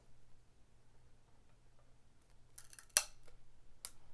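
A plastic PSA graded-card slab has its edge broken off, giving a few sharp close cracks and snaps, one loud crack standing out, then a quick click against a quiet background.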